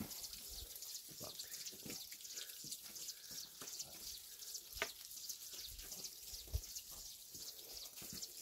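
Mountain water runs steadily through a rocky stretch deep in the hills, a faint, even rushing with small splashy ticks and no voices.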